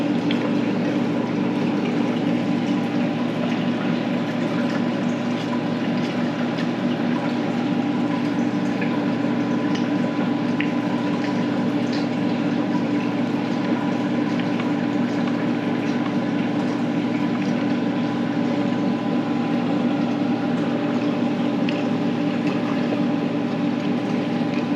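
Aquarium gear pumps stir and agitate the water of a reef tank being cleaned of green hair algae, giving a steady, unbroken churning hum and bubbling wash with no breaks.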